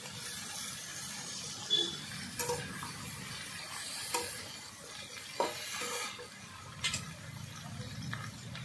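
Potatoes, brinjal and mitul frying with onions in a pan, a steady soft sizzle broken by occasional louder stirring scrapes and knocks, close by and with no talk.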